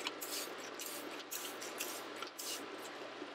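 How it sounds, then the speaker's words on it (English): Steady hissing spray bursts of citric acid solution onto hand-dyed yarn repeat close by, a soft pressurized mist with brief pauses between pumps. "You want to give it a good spray, but don't overdo it."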